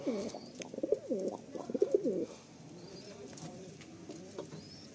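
Pigeons cooing in a home loft, including a female pigeon; a few soft, low throaty coos in the first couple of seconds, close by, then fading into quiet background.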